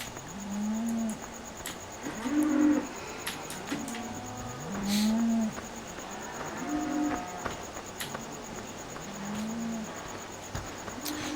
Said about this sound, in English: Now the area with the cows is over here. I can hear cows.